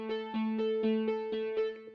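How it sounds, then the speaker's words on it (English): Synth arpeggiator with its gate fully open, playing sustained electronic notes that blend into a steady, overlapping two-note pattern with soft repeating attacks, clear and alone. "Now the gate is going to determine if when you have it all the way open, it's going to be more of a sustained sound like this."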